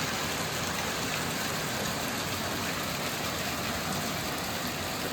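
Steady rain pours down in Kenya, a dense, even hiss that holds at the same level for a few seconds, nearby and with no talking.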